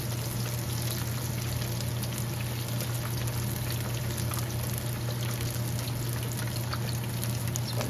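Onion rings and fish fry in hot oil, giving a steady, dense sizzle that runs unbroken throughout over a low hum, with no talking.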